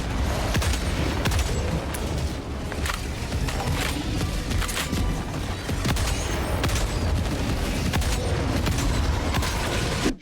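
Anti-material rifle fire in Helldivers 2 booms again and again in a dense, rapid barrage, the heavy reports layered over constant loud battle noise and mechanical clatter.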